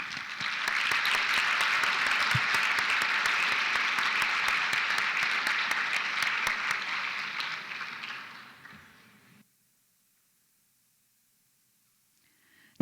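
An audience at a college awards ceremony applauds an award recipient, with steady, full clapping that gradually thins and fades to silence after about nine seconds.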